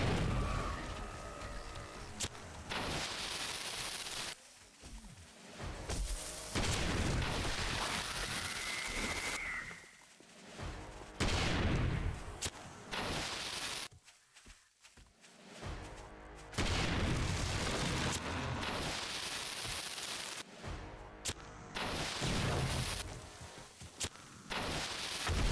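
Repeated dynamite blasts in the survival game 7 Days to Die, loud booming bursts rolling one after another across the stretch with brief lulls between, a dense barrage of explosions and rumbling debris.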